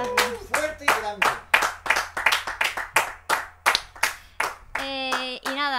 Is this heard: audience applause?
yes